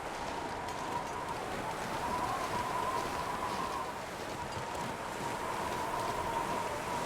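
Wind howls across the snowy wilderness in The Long Dark, a steady, dense roaring gust with a faint whistling tone, continuous and fairly loud without breaks, and no one talking.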